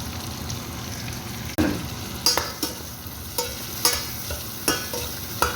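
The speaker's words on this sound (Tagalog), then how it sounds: "Basta medyo nag-ano na yung ating bawang at luya, lagyan na natin ang sibuyas." Garlic, ginger and onion sautéing in a pan for crab soup, a steady sizzle with a sudden drop-in hiss and then regular spoon scrapes and knocks against the pan every half second or so.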